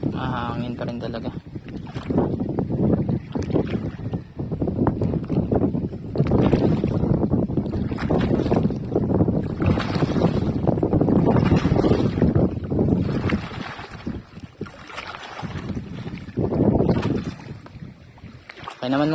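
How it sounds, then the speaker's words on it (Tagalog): Gusty wind buffets the microphone out on the water during a fishing trip from a boat, a continuous rumbling roar with surges throughout, while someone talks over it. "Mahangin pa rin talaga."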